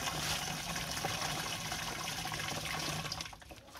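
Steady rush of water pouring into a garden sprayer, continuous and close, tapering off at the end.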